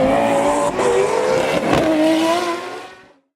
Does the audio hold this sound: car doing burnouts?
yes